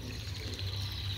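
Water of the flooded Camaragibe Mirim river in Joaquim Gomes, Alagoas, rushing along in a soft, steady wash with a low rumble, faint and continuous with no talking.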